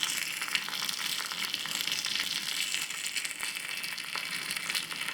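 Steady, even sizzling of rava kara paniyaram frying in a pan after being flipped, a continuous crackling hiss with no talk.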